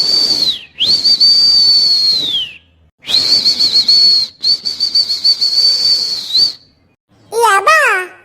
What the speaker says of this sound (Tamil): இவன் ஏன் விசில் அடிக்கா?